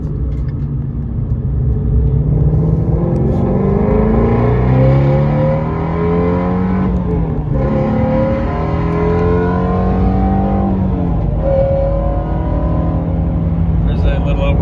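Sports car with Brembo brakes accelerating hard up through the gears toward about 80 mph in fourth, engine note climbing and dropping at each shift, loud and close throughout.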